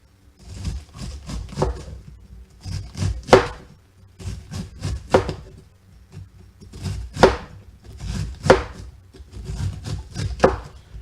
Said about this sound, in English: We're going to shave some of that off with this butcher knife here.